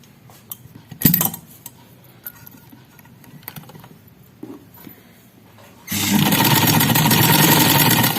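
Sewing machine stitching along a shalwar belt: scattered clicks and fabric handling first, then the machine starts and runs loudly and steadily to the end.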